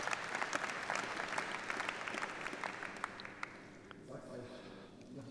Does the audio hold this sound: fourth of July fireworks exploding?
no